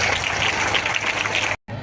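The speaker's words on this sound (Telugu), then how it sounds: "ఒక్కసారి గట్టిగా చప్పట్లు కొట్టాలి." An audience claps briefly at a bicycle distribution event for tenth-grade students with a central minister, a dense, fairly close burst of applause that cuts off abruptly near the end.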